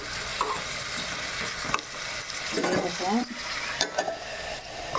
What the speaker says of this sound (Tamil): இதில் வந்து பார்த்திங்கன்னா மஞ்சள் பூசணிக்காய் அதையும் வதக்கி விட்டுட்டேன், வெந்துக்கிட்டு இருக்குது.